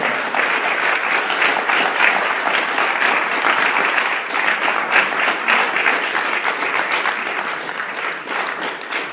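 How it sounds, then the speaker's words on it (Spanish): A church congregation applauds loudly and continuously for about nine seconds, a dense, even wash of clapping that never pauses. "¿Cuántos pueden darle un fuerte aplauso al Señor?"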